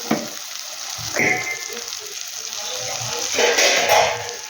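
Chicken sizzling in a hot pan with spices for chicken kosha, a bright steady frying hiss rising in bursts as pieces are stirred and turned, with brief scraping sounds.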